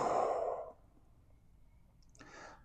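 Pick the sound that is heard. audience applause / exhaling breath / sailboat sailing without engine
exhaling breath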